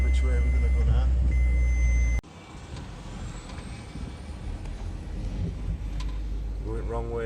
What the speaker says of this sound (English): The van's struggling in second gear.